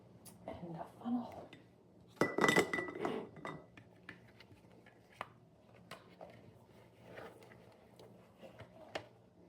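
A glass jar and a funnel are handled in a kitchen during freeze-dried garden harvest work, with scattered light clinks and knocks and a louder cluster of glassy rattles early on.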